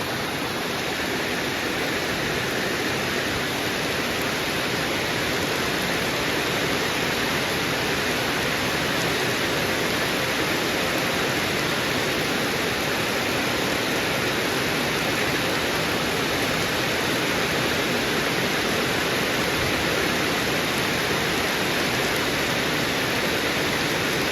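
Heavy rain pours steadily at Wang Yen railway station in Thailand, a dense, loud, unbroken downpour hissing and drumming on surfaces throughout, with no voices over it.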